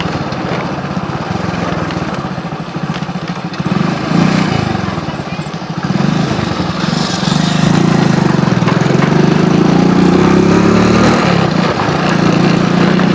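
Out on a village ride, a motorcycle engine drones loudly and steadily throughout, rising slightly in intensity midway, while a voice can be heard faintly over the engine.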